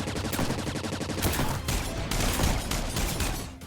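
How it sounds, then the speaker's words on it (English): Rapid continuous gunfire from special weapons against a robot boss in an MMO video game, loud dense bursts filling the whole span with no talking. "with my special superpower bullets, I destroyed the robot"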